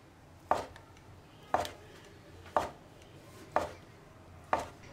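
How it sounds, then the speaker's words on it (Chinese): Five evenly spaced knife chops cut ham sausage into slices on a cutting board, each a crisp close thud at a steady one-per-second rhythm, with no talk. "取一块火腿肠，把火腿肠切成片"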